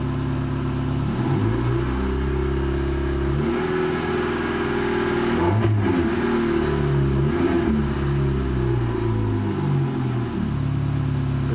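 A car engine with its lambda sensor disconnected, slightly warm, is revved repeatedly in steady rising and falling sweeps without stumbling, heard alone at close range.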